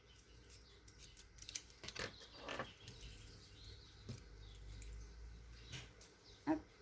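Quiet snips of scissors cutting out a paper petal for flower embellishments, scattered small cuts and rustles close by, soft with no talking.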